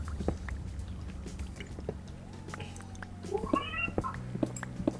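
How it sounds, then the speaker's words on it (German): A domestic cat meows a couple of times faintly in the background, short rising cries among quiet room noise, clicks and soft ambient sounds. "das war jetzt diesmal wirklich meine Katze"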